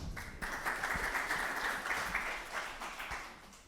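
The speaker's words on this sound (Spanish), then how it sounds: "Un aplauso, por favor." Audience applause at a book presentation, a steady wash of many hands clapping that swells quickly and keeps going throughout.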